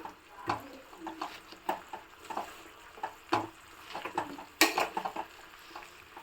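Amaranth leaves and stems fry in a pan while being stirred, giving a soft sizzle broken by irregular scraping and clinking strokes, close and moderately loud, with no talking.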